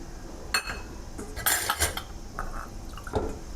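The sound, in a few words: pouring a cup of water into the pot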